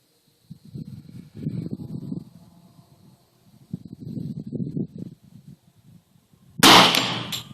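A single sharp gunshot from a Just Right Carbine chambered in .45 ACP rings out near the end, loud and close, after stretches of quiet handling and low rustling.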